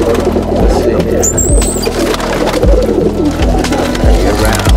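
Roller pigeons coo in soft, low, repeating pulses, loud and close, over a dense bed of background noise.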